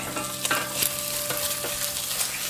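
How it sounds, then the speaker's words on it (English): Sausage being broken apart while frying in a pan for a stuffed pork loin roast, a constant close sizzle with several sharp spatula scrapes and pokes. "so I'll break this sausage apart here"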